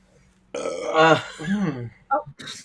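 A single long, loud belch rumbles up close for about a second and a half, followed by a short second burp and a brief voice.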